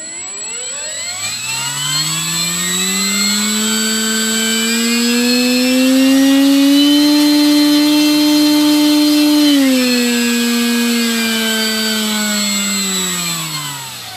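The electric motor of a Horizon Hobby P-51D Blondie 1.2m RC model plane runs up to a loud, steady whine with a shrill tone that rises, holds, then dips and settles, with no talk over it.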